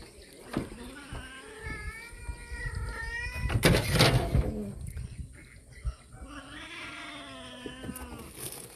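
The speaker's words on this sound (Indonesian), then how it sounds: "Kasih keluar semua kucing dulu" Several local cats meow and caterwaul close by, with repeated drawn-out cries overlapping across the clip, a few sharp knocks and rustles mixed in, and a person talking quietly in the background.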